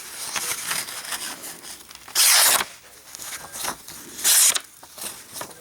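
A G-10 flipper knife slicing through purple computer paper, two sharp bursts of crisp tearing and cutting noise, close and fairly loud, over a quiet background of faint rustling.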